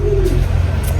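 Young racing pigeons give a low, soft coo up close, a brief throaty call over a steady low background hum.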